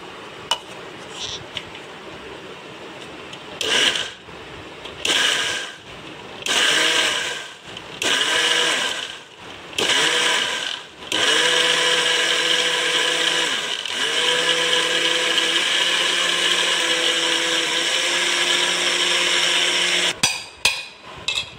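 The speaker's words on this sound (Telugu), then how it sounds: "ఈ పాలు పోసి దీన్ని బాగా మెత్తగా గ్రైండ్ చేసుకోవాలి" Mixer grinder blending kodo millet with milk for a traditional Telugu halwa: several short whirring bursts, then a long steady high-pitched grinding run before cutting off, loud and close with no talk.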